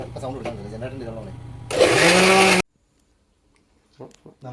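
A mixer grinder with a slight fault whirs loudly as it blends mango shake with sugar and milk, roaring for about a second after talk before cutting off abruptly.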